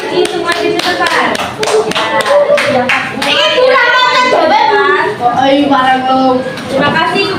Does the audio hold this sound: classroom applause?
yes